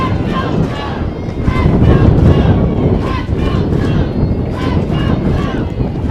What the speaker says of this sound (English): As the wind gusting back again.